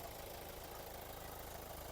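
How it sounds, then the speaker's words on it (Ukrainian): A 2015 Hyundai Santa Fe in top trim sits at a steady, smooth idle, a faint, even engine hum with a low rumble that holds constant throughout. "Двигун працює рівненько, без проблем."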